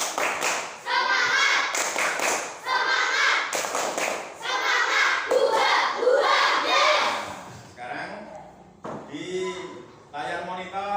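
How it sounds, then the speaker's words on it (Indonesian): A teacher and a classroom of students perform tepuk semangat, a chanted clapping routine in which bursts of rhythmic group claps alternate with loud shouted voices. "yuk kita tepuk semangat dulu"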